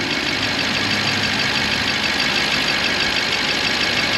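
Used car engine idling at a vehicle auction, a steady, dense mid-range rumble with a faint ticking texture, loud and close, constant with no talking.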